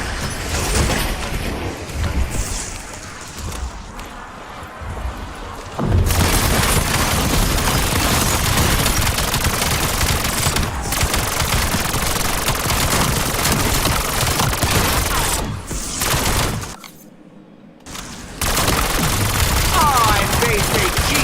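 Rapid automatic gunfire in a zombies video game, dense sustained bursts that fill nearly the whole stretch with brief lulls and a short silent gap, loud and close.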